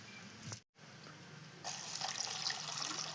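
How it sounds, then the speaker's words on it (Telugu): Dried prawns being washed in water at a village kitchen, with a continuous close splashing, running-water wash that stops briefly and then returns fuller and louder. "ఇవి కడిగేసుకున్నాము, శుభ్రంగా కడుక్కుందాం 2-3 సార్లు."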